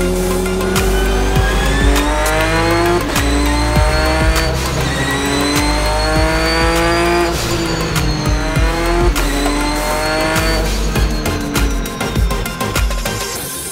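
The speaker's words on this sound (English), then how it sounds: "It's basically a GT3 race spec car, two-wheel drive, twin turbo, lots of horsepower." Scribante Porsche GT3-spec twin-turbo, two-wheel-drive race car driving hard on a track, engine note rising and falling through gear changes with tire squeal, loud and close throughout.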